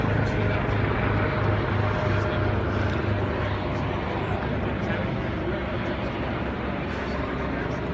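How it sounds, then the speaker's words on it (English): Helicopters flying overhead amid heavy media presence, a continuous loud rotor drone with a low throbbing pulse that holds steady. "The helicopters are unreal."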